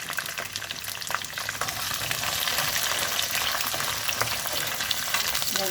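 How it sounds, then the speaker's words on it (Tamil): Onions and a whole pod of garlic sauté steadily in a pan for a fish marunthu kuzhambu, giving a continuous close sizzle and crackle with occasional stirring and no voices. "இந்த வெங்காயமும் பூண்டும் நல்லா வதங்கிட்டோம்."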